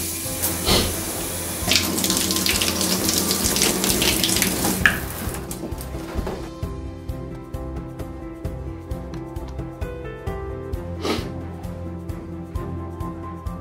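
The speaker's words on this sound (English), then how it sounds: "Test the shower by turning it on and then firmly off again several times, making sure the new cartridge controls the water flow correctly." A Moen shower, fitted with a newly replaced cartridge, runs with a loud, steady hiss of water. After about six seconds the flow is shut off and the hiss drops away, leaving quiet drips and faint room noise.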